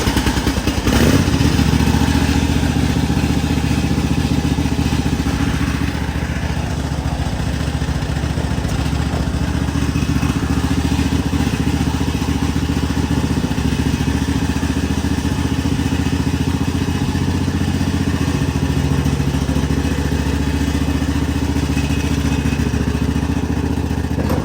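A Cub Cadet lawn tractor's small engine runs loud and steady after a choked start, with a continuous rough drone and mechanical clatter close by throughout.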